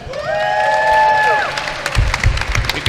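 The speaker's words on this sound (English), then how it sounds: "So, if you hear some cheering, it's because of that." At a WCA Euro 2018 Rubik's cube competition, English and Irish spectators cheer and applaud, a loud crowd swell after a sharp whistle-like tone, with clapping and shouts rising toward the end.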